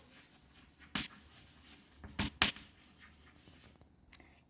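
Pen scratching across paper while working out a geometry exercise, a few quick, close strokes in short bursts with pauses between, fairly quiet.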